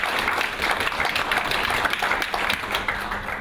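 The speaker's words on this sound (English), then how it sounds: "One more round of applause, please." An audience at a graduation ceremony in Melbourne gives a round of applause, dense steady clapping from many hands filling the hall for a few seconds.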